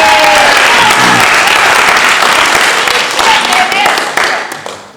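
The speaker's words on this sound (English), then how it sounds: "I'm glad you're clapping" A debate audience breaks into loud, sustained applause from a large crowd, dense and close, with a few voices under it, before it tapers off at the end.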